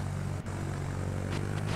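A plane's propeller engine drones in the Roblox game Vehicle Simulator, a steady loud low hum with a brief dip partway through.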